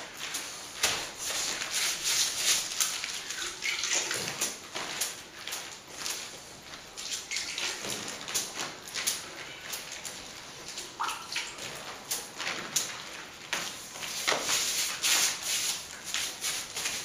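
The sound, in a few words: wetting down wall chase with water before plastering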